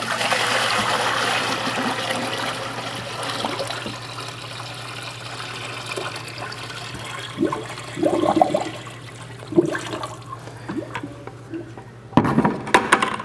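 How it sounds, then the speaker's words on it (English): Water is poured into a SYN-BLOC Petro-Pipe, a steady rushing pour that fades into gurgling trickles and drips as the water flows through and drains, with a low hum underneath. "We're going to start off by pouring water and developing a flow of water."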